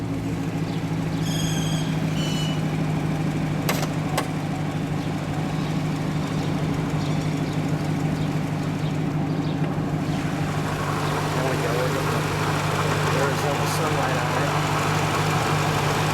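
A 2014 Chevrolet Corvette Stingray Hennessey HPE 650 with a supercharger idles under the open hood, a loud, steady, smooth engine hum close by, while someone talks over it.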